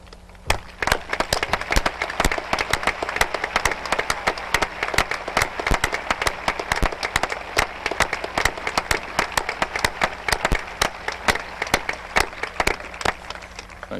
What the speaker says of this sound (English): much-deserved round of applause.